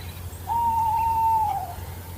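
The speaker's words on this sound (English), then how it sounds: "Tawny owl." A tawny owl gives a single steady, drawn-out hoot of about one second, heard outdoors at twilight over a low background rumble.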